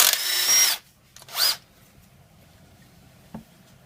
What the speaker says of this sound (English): we're just using the power tools to make things easier and quicker for us